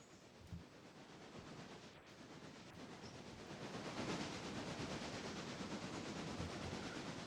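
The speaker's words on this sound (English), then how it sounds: "our train's gonna come on down" A train rolling along in the Railroader video game, a steady rumbling hiss of moving rail cars that slowly builds in strength, quiet and continuous with no talking.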